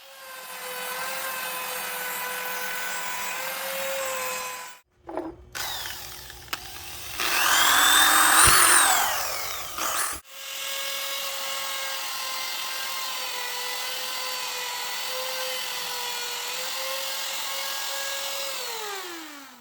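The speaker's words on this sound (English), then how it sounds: "I'm going to go back to the trim router and run the flush cut bit all the way around the edge" A trim router with a flush cut bit whines at a steady high pitch while trimming the laminate edge of a vanity top. It stops briefly, then a louder rough cutting burst follows, and the motor whine resumes before spinning down.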